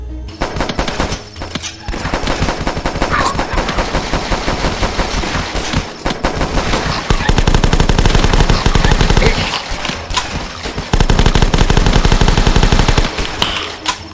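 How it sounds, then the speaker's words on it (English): SMG firing at zombies in the PC game The Last Stand, loud rapid bursts of automatic gunfire in sustained strings with brief pauses between them. "Another decent weapon is the SMG. Just having it go burr, slaying zombies left and right, is so satisfying."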